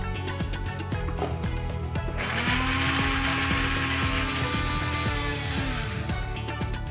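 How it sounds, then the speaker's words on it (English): Mixer grinder blending coconut, garlic and cumin seeds into a coarse paste, starting after a couple of seconds of clatter as a loud, steady, close whirring drone that runs for about four seconds and then cuts off. "And now we'll grind this to a coarse paste."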